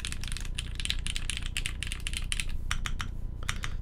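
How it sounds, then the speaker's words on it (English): Fast typing on a 60% mechanical keyboard fitted with Vint Black switches: crisp, clacky keystrokes in a rapid, uneven stream, close and loud, with a deeper clack from the space bar. "I mean, to me, this is just what a quintessential keyboard should sound like."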